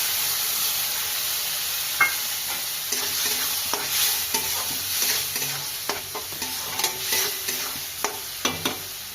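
Ground spice paste fries in hot oil with a bright, constant sizzle while a spoon scrapes and clacks against the pan in frequent, uneven strokes. It is close and fairly loud, with no voices.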